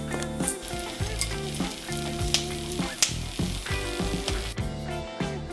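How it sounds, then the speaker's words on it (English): Star anise and other whole spices spluttering in hot ghee for mushroom biryani, an active crackling sizzle with frequent pops and stirring scrapes, close and continuous. "Then we add the star anise and the rest of the whole spices and let it splutter."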